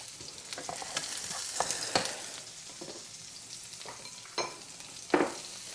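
Sausage frying in its own grease in a pan for shrimp and grits, a steady close sizzle and hiss broken by a few sharper pops and spatula scrapes, with no voices.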